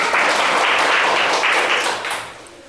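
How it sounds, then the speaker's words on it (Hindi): Schoolchildren in a classroom clap loudly for a pupil, a dense burst of applause that holds steady for about two seconds and then tapers off. "चलो इसके लिए जोरदार ताली"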